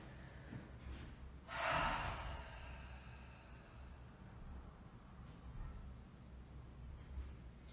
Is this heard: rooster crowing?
no